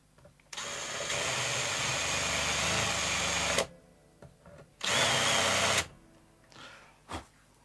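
A power drill drives screws into an electric guitar body, two long whining bursts separated by short pauses, with light clicks and handling noises between them; the drilling is close and loud.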